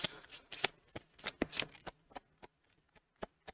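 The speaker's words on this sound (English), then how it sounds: "Let's grab some oracle cards." A deck of oracle cards is shuffled by hand in a quiet room, with quick bursts of riffling and flicking in an irregular rhythm, close and crisp, fading to a few soft taps at the end.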